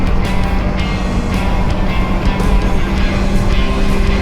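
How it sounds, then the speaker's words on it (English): A Kawasaki Versys X 300 motorcycle slows in third gear under engine braking, a loud steady drone with wind rush, the engine note holding high and buzzy as the bike decelerates. "So this time I'm going to use the engine braking, the ample engine braking, to slow me down and not have to downshift."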